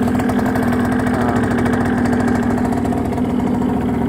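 A Hyosung Sense 50 scooter engine running after a cold start at -5 °C in a Norwegian winter, with a little over 1,000 km on it. It is a loud, steady, close buzzing idle with no let-up.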